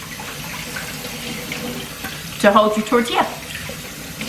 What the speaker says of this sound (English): Yes, I'm over here washing my hands.